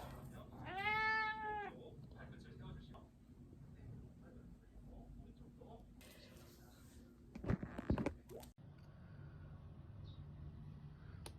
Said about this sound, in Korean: 야옹야옹.